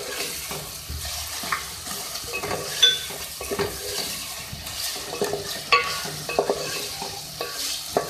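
Chicken with ginger-garlic paste stir-fried in a pan, a steady sizzle under repeated scraping and stirring of a spatula against the metal, close and continuous.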